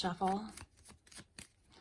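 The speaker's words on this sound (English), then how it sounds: "Just give it a little bit more shuffle." A deck of cards being shuffled, a few soft riffling bursts and taps after a brief spoken word, quiet and close.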